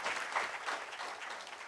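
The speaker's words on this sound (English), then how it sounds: "A thunderous round of applause for our incredible panel." Applause for a panel at a town hall event, a steady dense patter of clapping from an audience throughout, moderately loud and unbroken.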